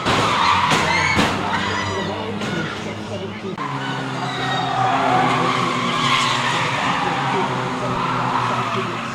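A mini-stock race car skids and spins out during a crash, with loud tire squeal and engine roar running throughout, close and continuous over crowd and track noise.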